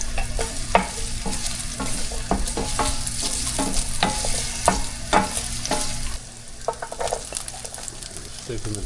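Ginger sizzles and spits in hot extra virgin olive oil in a pan, a steady close frying hiss broken by sharp crackles and repeated stirring scrapes, with no talk over it.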